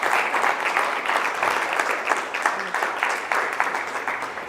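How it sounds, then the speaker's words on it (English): An audience at a Christian schools women's symposium breaks into applause, a dense, even clatter of many hands clapping steadily throughout. "Can we just give her another round of applause?"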